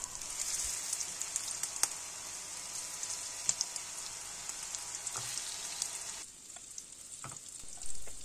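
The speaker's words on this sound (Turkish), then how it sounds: "Köftelerimiz çok kızarmayacak şekilde kızartıyoruz." Turkish meatballs (köfte) fry in a pan with a continuous crackling sizzle that holds steady, then softens after a few seconds, with small pops and a light stir near the end.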